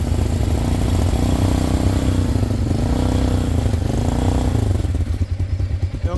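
Off-road motorcycle behind the Calico gun range revving its engine to climb over a log; a steady, loud, close engine drone rises and falls in pitch, then roughens and fades slightly at the end.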